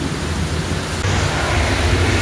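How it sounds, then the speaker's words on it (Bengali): Heavy rain pours down during a sudden thunderstorm on a road, making a loud, steady broadband roar that swells slightly halfway through, with no one speaking. "এত পরিমাণে বৃষ্টি আর এত পরিমাণে বিদ্যুৎ চমকাচ্ছে"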